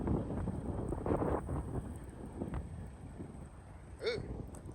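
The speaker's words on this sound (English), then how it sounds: "It's windy." Wind buffets the microphone in a steady low rumble at a truck yard, louder in places, with faint background sounds and no clear talk.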